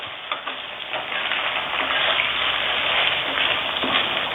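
Pork cartilage fries in its own rendered fat, a steady, close, loud crackling sizzle with scattered sharper pops and no talking.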